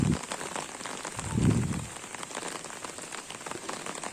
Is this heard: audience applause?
no